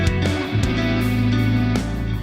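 A guitar played through a pedal board's big reverb effect, sustained chords with a few sharp attacks that wash into a dense, continuous reverberant tail, loud and steady throughout.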